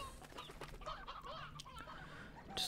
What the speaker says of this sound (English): We'll take one stony hen.